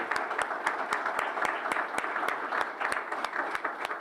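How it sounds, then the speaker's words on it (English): An audience at a community award ceremony applauds nominees, a steady bed of crowd clapping punctuated by a few sharp, rhythmic nearby claps standing out above the rest. "A round of applause for everyone in this category."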